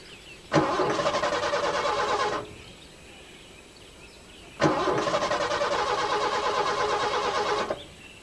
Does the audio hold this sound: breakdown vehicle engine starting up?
yes